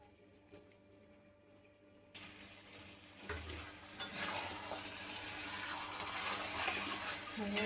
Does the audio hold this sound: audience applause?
no